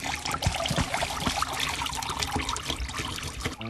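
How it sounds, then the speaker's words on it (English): Hot water pours out of a bottle in a gurgling, glugging trickle with uneven splashes, close and continuous for a few seconds. "Now dump the hot water out"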